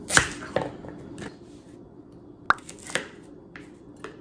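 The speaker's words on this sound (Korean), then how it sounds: "당근 샐러드에 들어갈 당근은 길게 썰어줍니다" A knife slicing carrots into long strips for a carrot salad, giving a handful of sharp, irregular cuts against a board with quiet gaps between them, close and fairly soft.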